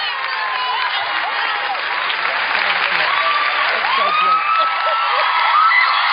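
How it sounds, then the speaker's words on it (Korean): Applause from a congregation at a youth evangelism rally as a guest is welcomed, steady and dense clapping filling the room with scattered cheers and whoops throughout. "다들 차가 없는 사람이기 때문에 그 기쁨을 알아서 박수를 쳐주는 겁니다."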